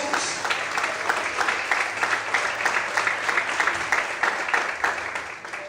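A church congregation claps hard in praise to the Lord, a dense, loud, rhythmic burst of applause sustained evenly from start to finish.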